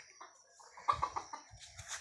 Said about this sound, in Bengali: এখানে আর কিছু মোরগ আছে, এগুলো আজকে জবাই হবে।